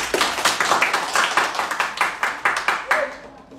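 A small audience claps at a live film cast event, a short burst of about a dozen distinct, evenly spaced hand claps that fade out at the end, with voices present around them.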